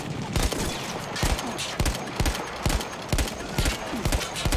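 Repeated gunshots in Battlefield 1, a World War I video game: sharp, loud reports fire in a steady rhythm about every half second, with distant battle noise underneath.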